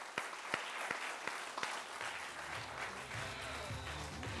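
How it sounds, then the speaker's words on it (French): Applause from an audience at a startup pitch contest, a steady wash of clapping with a few sharp individual claps near the start, moderately distant and continuing for several seconds. "On l'applaudit."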